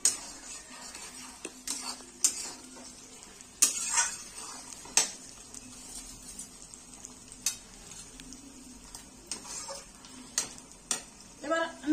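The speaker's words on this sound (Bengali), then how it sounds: "টমেটোটাকে দিয়ে ভালো করে একটু কষিয়ে নিচ্ছি।" Tomatoes frying in a pan for chicken biryani, a low steady sizzle punctuated by repeated sharp clinks and scrapes of a utensil stirring against the pan.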